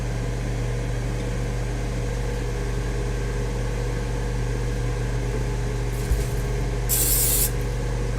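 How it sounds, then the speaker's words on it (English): Over a loud steady kitchen hum, a short burst of spray from a spray can hisses onto cheese taquitos before they go into the air fryer, brief and near after a long stretch of droning background. "So I just spray a little bit on and then just start spreading it around."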